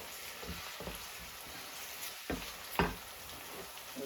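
Fresh garlic and ginger paste sizzles quietly with minced meat for dum keema, a faint, even frying hiss with a few spoon scrapes and taps as it is stirred.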